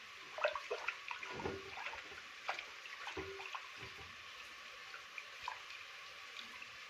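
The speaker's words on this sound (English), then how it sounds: "Pour in water in the rice, then I'm washing like this to make sure the water has pierced every corner of the rice." Rice being washed by hand in water while village lunch cooking goes on, soft sloshing and swirling with scattered small splashes and drips, close and fairly quiet.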